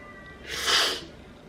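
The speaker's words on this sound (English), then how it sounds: "I'm sorry about the sniffing" A woman with the sniffles gives one short, close, breathy sniff through the nose that rises and fades within about half a second against a quiet room.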